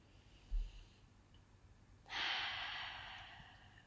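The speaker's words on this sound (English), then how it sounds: "please just breathe with me right now" A single soft exhale through the nose, then a long, steady breath drawn in slowly and calmly for almost two seconds, close to the microphone and quiet, with no talk.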